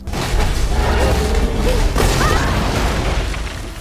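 A landmine blast in a sci-fi alien invasion film, a loud sustained rumbling boom filling the scene, with scattered crackling debris and faint tonal voice-like sounds mixed in.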